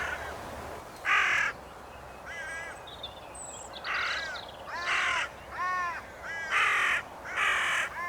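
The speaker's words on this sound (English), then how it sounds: "a lot of the other crows came noisily protesting above" Hooded crows caw repeatedly in harsh, overlapping bursts, several birds calling loudly in an uneven rhythm outdoors.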